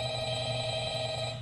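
A telephone rings steadily in the Five Nights at Freddy's horror game, a continuous electronic trill over a dense droning hum, moderately loud and alone.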